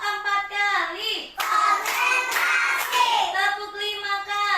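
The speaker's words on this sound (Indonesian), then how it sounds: "Tepuk satu kali, tepuk dua kali, tepuk tiga kali, tepuk empat kali" Children play a counting clap game in a classroom, a few claps in a burst between sung or chanted voices that carry most of the stretch.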